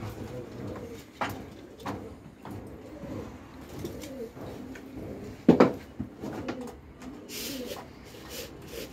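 Soft cooing from homing pigeons carries on steadily under background noise, with a few sharp clacks and knocks scattered throughout.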